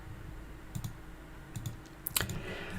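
A few sparse, close clicks of keys being typed on a computer keyboard, arriving in small clusters with short pauses between them, over a quiet background.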